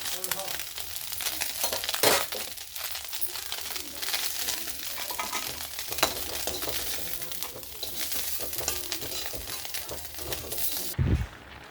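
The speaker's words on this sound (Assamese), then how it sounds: "আৰু মোৰ মাছখিনি ভাজা হৈ গৈছে, মই এতিয়া নমাই ল'ম।" Small fish frying in a pan of hot oil for an Assamese chana kosur khar, a steady broadband sizzle running throughout with a brief clink near the start and a thud near the end.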